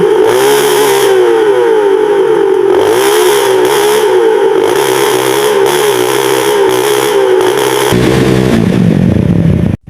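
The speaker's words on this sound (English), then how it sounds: "give that engine one more listen" A sputtering motorcycle engine idling loudly up close, a steady throbbing rumble with small rhythmic pulses, then a change in tone before it cuts off.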